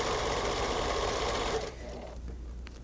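A 1990 home sewing machine zigzag stitching a fur costume seam through knit backing, a loud continuous mechanical whir that cuts off abruptly near the end, leaving a quieter hum.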